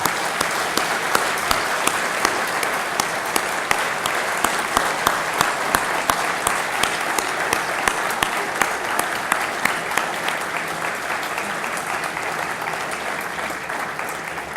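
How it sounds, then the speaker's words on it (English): An audience gives sustained applause for the presentation of the BGRI 2014 Gene Stewardship Award to Ethiopian scientists, many individual claps crisp and close over a dense, even roar that fades slightly toward the end. "we'll give them a big round of applause"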